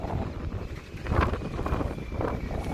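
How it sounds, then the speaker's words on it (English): Strong wind buffets the microphone outdoors beside a 2016 Ford F-150 XLT, a continuous low rumble with gusty swells, fairly loud and without talk. "Sorry, it's super windy."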